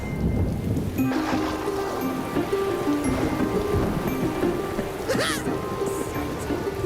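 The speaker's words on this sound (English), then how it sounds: "the raindrops fall from the sky" Steady rain pours down with low rolling thunder rumbling throughout, a continuous dense wash of storm noise with a brief brighter splash near the end.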